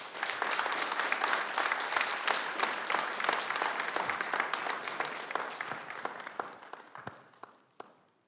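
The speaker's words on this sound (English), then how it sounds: "she definitely deserves a round of applause" Audience applause at a town council meeting fills the room in a steady, fairly loud burst of many hands clapping, then thins out toward the end with a few last claps.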